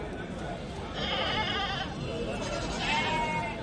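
Male goats at a livestock market bleat in a couple of wavering calls amid a busy crowd murmur, fairly close, with people talking in the background.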